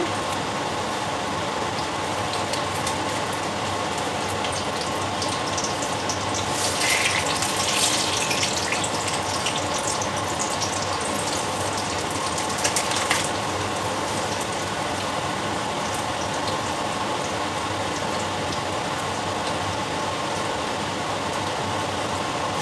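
Bay leaves drop into hot oil for khichuri, giving a steady broadband hiss of sizzling that continues for the whole stretch, with a brief louder burst of spattering partway through.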